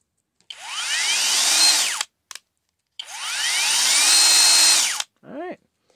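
A HOTO 12V brushless cordless drill whirs up to speed twice in two long bursts, its pitch rising then falling, with a short blip between and a quick final spin-down.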